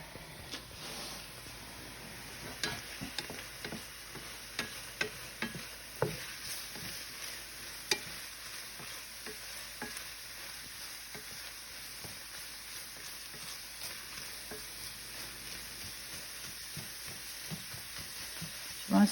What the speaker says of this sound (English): You want to stir your peppers and onions every once in a while here while they're sauteing so they don't burn